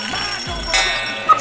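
An alarm going off indoors, a steady electronic ringing tone sounding continuously at moderate level with a brief sharper burst near the end, no voices present.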